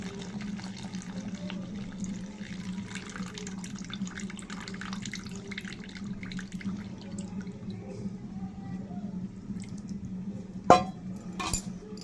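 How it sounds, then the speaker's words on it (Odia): Sour tamarind water goes into a clay pot of country chicken curry over a steady low simmering hum. Two short, sharp splashes come near the end. "ଚାଲ ତେନ୍ତୁଳି ଖଟା ପାଣି ଦେଇଦେବା।"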